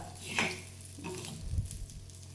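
A spoon scrapes and stirs through spiced puffed rice in a pan, with a few close rustling strokes over a faint background hiss.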